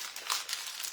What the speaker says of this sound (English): The first thing we're going to do is we're going to crumple it up.